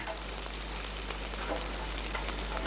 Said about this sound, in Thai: น้ำมัน ปลอดสาร แน่อ้าว ใส่ไปเลยเนี่ยอ่ะ หัวหอมมันจะได้หอม